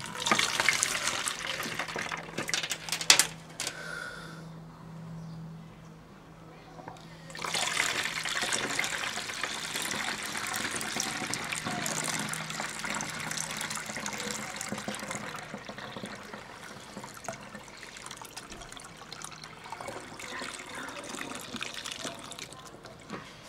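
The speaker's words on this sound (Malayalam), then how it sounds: "ഈ സ്പ്രേ ബോട്ടിലേക്ക് വെള്ളം അങ്ങ് പകർത്തി ഒഴിക്കുവാണ്" Water is poured through a filter into a spray bottle, making a steady trickling, splashing flow that runs nearly throughout, with a short lull near the start before the pour resumes.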